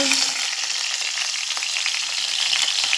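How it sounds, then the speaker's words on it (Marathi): Mustard seeds, cumin, crushed garlic and green chili sizzle and crackle in hot oil, a dense close hiss with small popping spatters throughout, steady and loud with no talking. "मोहरी तडतडेल की त्यामध्ये जाईल जिरं मस्तपैकी टेचलेला लसूण हिरवी मिरची"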